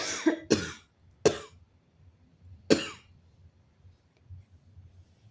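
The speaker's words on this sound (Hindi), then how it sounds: "सॉरी तो थोड़ा सा खांसी आ रही है।" Four sharp coughs close to the mic, two in quick succession then two spaced apart, with quiet background hum between them.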